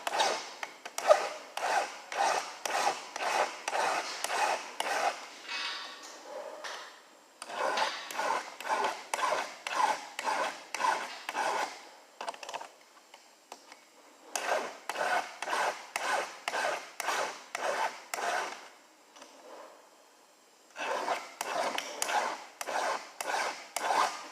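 A hand file rasps against a chainsaw chain in quick rhythmic strokes, bursts of about ten even passes separated by short pauses, close and moderately loud.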